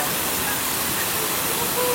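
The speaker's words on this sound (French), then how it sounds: "l'eau de la cascade arrive de ces montagnes là-bas" A waterfall fed by mountain pastures in the hills above Nice rushes in a steady, broad hiss that stays constant and fairly loud throughout.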